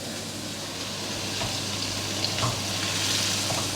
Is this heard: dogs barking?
no